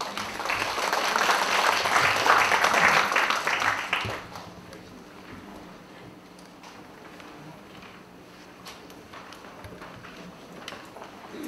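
Audience applause welcomes a professor on stage at an education lecture, loud sustained clapping for about four seconds that then fades to scattered claps and low room murmur.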